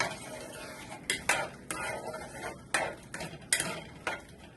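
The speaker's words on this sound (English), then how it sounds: "I'm going to stir those around in the juice a little bit" Onions being stirred into pot roast juices in a pot: a low bubbling simmer under repeated scraping clacks of a spoon against the pot's sides, close and irregular.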